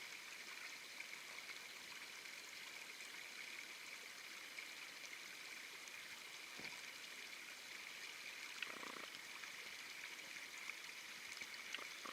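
A rocky creek flowing in November, a steady broad rush of water with faint trickling and splashing, even and continuous throughout, moderately distant, with no voices.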